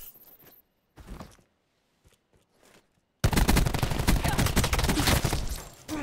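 Rapid automatic gunfire in Call of Duty: Black Ops 4 during a competitive match, coming in as a sudden, loud, sustained burst after a few scattered quieter clicks and thuds.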